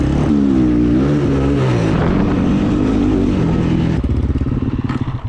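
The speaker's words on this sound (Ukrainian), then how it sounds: "Я ні разу в житті так газ не викручував." A KOVI MAX 300 motocross motorcycle engine wound up to full throttle, loud and close, its pitch climbing and holding as a steady roar before shifting into a rougher, pulsing note.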